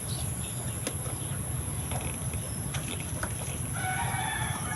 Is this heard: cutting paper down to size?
no